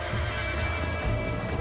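A horse in the video game Red Dead Redemption neighs loudly and close over hoofbeats, a sustained whinny with clattering clip-clop underneath throughout the short burst.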